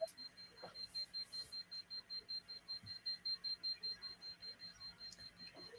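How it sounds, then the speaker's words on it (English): An electromagnetic radiation meter held beside the head beeps rapidly and steadily, a faint, evenly pulsed electronic tone repeating about four times a second with no talk. "it's beeping this like mad this time to me"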